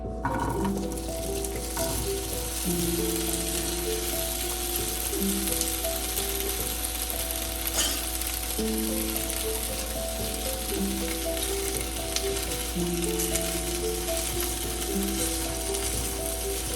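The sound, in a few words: arbi (taro root) frying in hot oil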